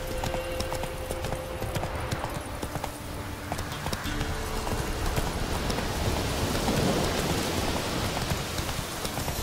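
Horse hooves clip-clop steadily on the ground in The Witcher 3, with rain pattering throughout and a brief whinny possible amid dense game ambience.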